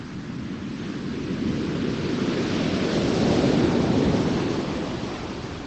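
Sea waves wash steadily onto a beach on England's south coast, a continuous broad rush of surf that swells slightly louder midway and then eases, with no voices over it.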